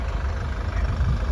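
A 2023 Isuzu D-Max HiLander diesel engine idles with a low, even rumble, close and continuous, with no talk.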